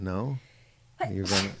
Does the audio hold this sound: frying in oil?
no